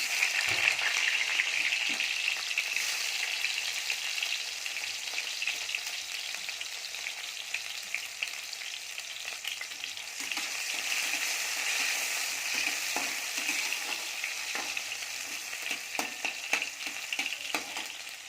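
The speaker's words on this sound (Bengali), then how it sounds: "তেলটা গরম হয়ে গেছে, এবার টমেটোটা তেলের মধ্যে দিয়ে দেবো।" Chopped tomatoes sizzle steadily in hot white oil with whole cumin seeds, a loud continuous frying hiss with occasional crackles and stirring scrapes, close and without voices.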